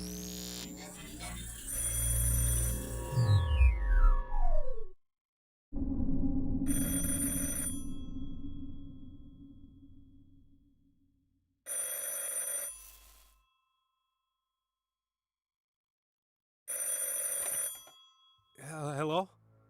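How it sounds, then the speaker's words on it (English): A telephone rings in a dining room, sounding as several separated bursts of bell ringing with silent gaps between them, fairly loud and clear, with other noise and a voice near the start. "The phone is in the dining room."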